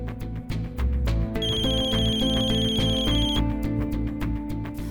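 A mobile phone ringtone plays loudly and steadily, a bright repeating electronic melody over a sustained bass tone, with no voices.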